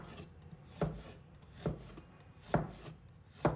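A knife chops a piece of fresh ginger into small pieces on a cutting board: four distinct, evenly spaced thuds, quiet and close, with no talking.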